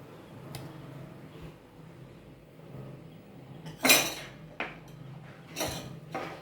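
Pot being stirred as ground horse gram goes into a simmering kuzhambu, with sparse clinks and a few sharp metallic clatters of a ladle against the vessel over a low bubbling background.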